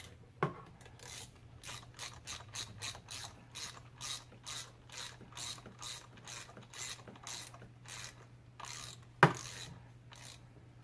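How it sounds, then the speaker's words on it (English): A ratchet clicks repeatedly while removing a spark plug from a BMW E46 with a cylinder 4 misfire. The bursts of clicking come in a steady back-and-forth rhythm, close and clear, with a couple of louder metallic knocks and no talk. "We're going to remove cylinder 5 spark plug just to compare."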